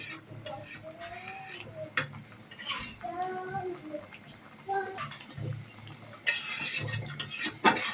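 Goat head meat is stirred in a cooking pot, with scattered metallic clinks and scrapes of a utensil against the pot, mixed with tonal squeaks and a person talking throughout.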